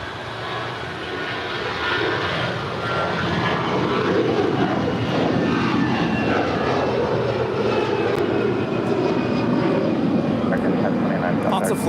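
Airliner rolling for takeoff on runway 25 right at LAX, a broad, steady engine roar that swells and holds, heard from a distance with voices talking over it.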